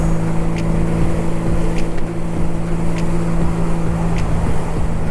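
Motorcycle riding across town, a loud, steady engine drone with strong wind rush over the microphone, sustained without pause and with no talking.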